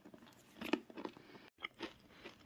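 Dry garlic croutons crunched and chewed close up, a few irregular crisp bites in quick succession with a brief pause midway, loud against a quiet background.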